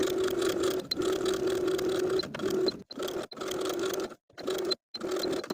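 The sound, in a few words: sewing machine edge stitching the casing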